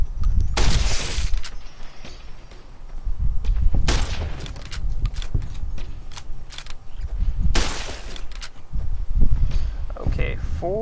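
Gunfire aimed at geckos in Fallout: New Vegas, sharp shots scattered across the span with a couple of louder bursts, over a steady game background while someone talks.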